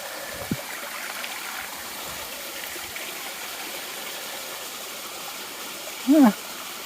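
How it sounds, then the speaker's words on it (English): A small creek flows over rocks and boulders along the Appalachian Trail, producing a soft, steady rushing wash throughout, with a brief vocal sound close by near the end. "This is sort of a nice little creek right here."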